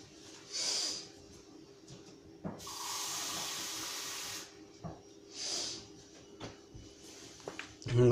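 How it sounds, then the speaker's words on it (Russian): Tap water runs into a humidifier's tank in bursts: a short splash, a longer steady hissing pour, then brief trickles, close and fairly quiet with no talking. "Сейчас я наберу воды."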